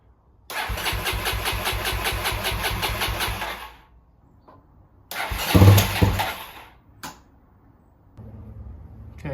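A 1989 Honda NX250 motorcycle engine cranks and catches after a CDI replacement. It runs loud and close with a rapid, even firing rhythm for about three seconds, then dies, restarts briefly with a heavier burst, and fades into a low, uneven idle.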